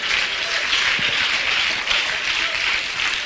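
A church congregation applauds steadily during a sermon, a dense, continuous wash of many hands clapping at close range with no pause.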